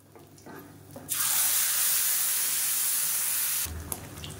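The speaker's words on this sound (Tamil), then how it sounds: "இப்போ மிக்சியை அலசிட்டு தண்ணி சேர்த்துக்கலாம்." Water runs from a tap to rinse a mixer jar, a loud, steady splashing gush lasting a few seconds before cutting off, with quieter kitchen handling sounds before and after.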